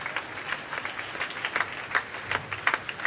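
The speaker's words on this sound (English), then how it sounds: "Please give them a round of applause" A Sunday morning church congregation applauds on Christmas Day, a moderate, somewhat uneven patter of clapping with individual hand claps popping out close by.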